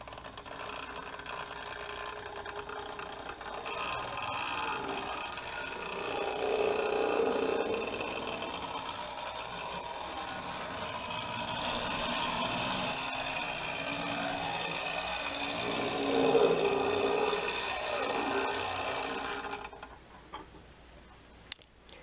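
A Hornby Dublo R1 model train locomotive's small electric motor runs steadily with a mechanical whir and light ticking, rising and falling slightly in intensity before cutting off near the end.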